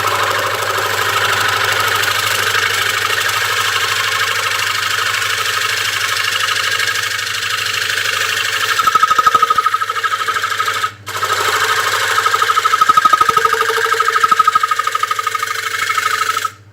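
A wood lathe turning a hardwood bowl, a steady close motor drone with a low hum, and gouge cuts that add rough, chattery scraping partway through before the sound drops away briefly.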